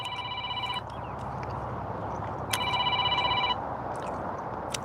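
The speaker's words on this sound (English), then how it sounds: "I don't know who's calling me, but I will have to answer his phone call later" Telephone ringtone chirps in two distinct bursts about two seconds apart over a steady background hum, an incoming call during a live stream while working on a Cessna 150 airplane.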